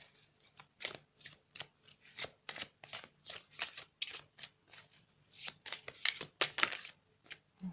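Cards are shuffled by hand in a rapid run of crisp riffling bursts, close and fairly loud, with no talk over it; the two cards that fall out are not distinctly heard.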